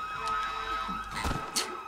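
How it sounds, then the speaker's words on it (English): An ambulance siren wails in the Avengers video game, a moderately loud rising-and-falling tone with some scattered game noise around it and no talk. "there's just the ambulance"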